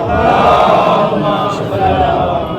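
A crowd at a majlis answers with a salawat chant, a dense, sustained mass of voices chanting together loudly throughout.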